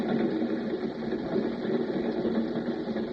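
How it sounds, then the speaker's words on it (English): Train wheels rolling over the rails, a dense, continuous rumbling clatter with a rapid mechanical rhythm, steady and fairly close, with no voices. "He listened to the sound of the wheels on the rails"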